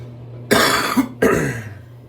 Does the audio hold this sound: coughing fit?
yes